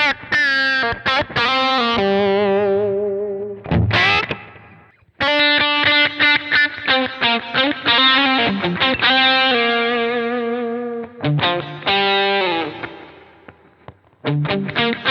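An electric guitar runs through a pedal board and a Blues Driver straight into an interface, with mildly distorted chords and sustained notes in phrases separated by brief silences.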